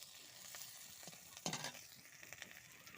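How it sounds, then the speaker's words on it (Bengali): A tempering of onion, garlic, bay leaf, green chili and five-spice sizzles faintly in hot oil, a soft steady hiss with a brief louder crackle midway. "তো এখানে পেঁয়াজ, রসুন, তেজপাতা, কাঁচা লঙ্কা আর দিয়ে দিয়েছি একটু ফোড়ন"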